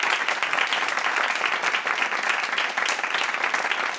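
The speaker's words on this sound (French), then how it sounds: "Bravo, on peut encore les applaudir." A dense, steady burst of applause from a large audience at a comedy awards show, many hands clapping together continuously and close for the full few seconds, with no talk over it.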